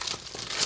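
Packing material crinkles and tears as it is peeled out of the shipping box of an HP ENVY x360 m6 convertible laptop, with a quick run of close, dry rustling.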